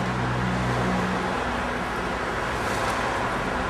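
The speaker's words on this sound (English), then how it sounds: "The traffic is so loud." Loud, unbroken roar of road traffic passing an outdoor rally in Bloomington, a dense wash of car noise with no voices.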